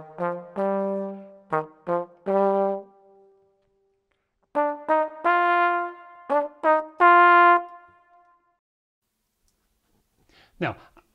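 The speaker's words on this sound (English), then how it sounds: "here's the basic trombone phrases" Short brass phrases of punchy, separated notes in two groups with a pause between, played alone and close; a faint click at the end.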